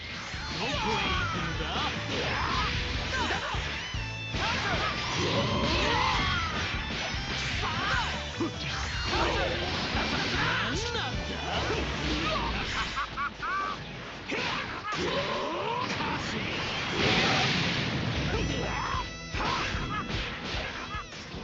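Dragon Ball FighterZ fight effects played on a Lenovo ThinkPad X1 laptop: dense, nonstop smashes, whooshes and whip-like hits layered with game voices, loud and continuous throughout.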